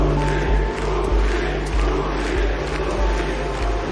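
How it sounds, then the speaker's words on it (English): A large crowd in France roars at a League of Legends esports event in a dense, continuous wash of distant cheering, with low rumbling thumps under it. "Listen to France as they are cheering for Uzi."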